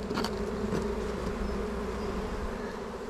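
Bees buzz around a beehive on a sunny day in a close, continuous droning hum with a few sharper passes of individual insects near the start.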